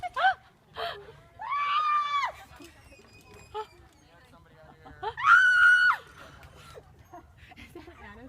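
A woman screams on a giant swing ride, with two long, high-pitched screams separated by a quieter stretch of breathy gasps and short cries.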